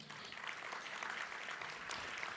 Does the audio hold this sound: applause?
yes